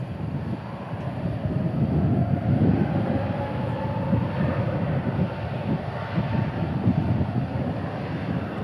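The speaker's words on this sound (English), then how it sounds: "Those new Pratt & Whitney engines sound like the whale." A Frontier airliner with new Pratt & Whitney engines rumbles past at DFW, a sustained loud low engine roar with a faint tonal hum that swells slightly in the middle, with no talking.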